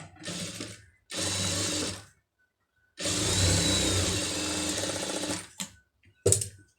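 A sewing machine stitches plain cloth for a pom pom trim design in several close, steady motor runs, the longest a few seconds, separated by brief pauses and a couple of quick final bursts.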